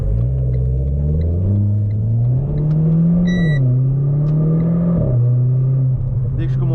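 A Renault Clio 4 RS engine revving hard under spirited driving, a loud, close in-cabin rumble with rising and falling pitch as it accelerates through the gears.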